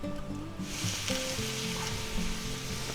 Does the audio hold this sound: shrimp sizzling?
yes